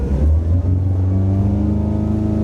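A Bayliner 642 motorboat's 3-litre four-cylinder engine revs steadily with a deep, droning hum that climbs slightly in pitch, loud and close throughout.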